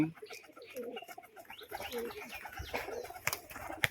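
Pigeons coo softly amid rustling and bursts of flapping wings, with sharp clattering flutters toward the end, close and moderately loud.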